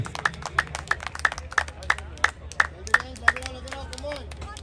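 A crowd at a cricket match claps for a fielding effort in a steady run of sharp, fairly close claps, with a commentator talking over them.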